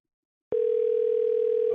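A telephone call tone, a single steady loud electronic tone starting abruptly after a brief silence and holding unbroken to the end.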